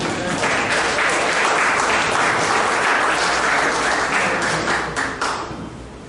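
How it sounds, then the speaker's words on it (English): A club meeting audience claps loudly and continuously for newly honoured Rotarians, a dense roar of hands that tapers off near the end. "I think we need to give a bigger clap to all them"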